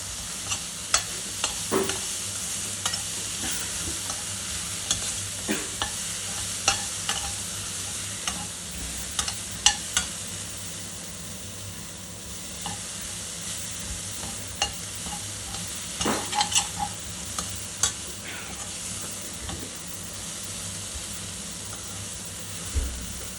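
Eggplant and banana cook in a pan with a steady, quiet sizzle. Scattered scrapes and taps from a stirring spoon come through at an uneven pace, and no one talks.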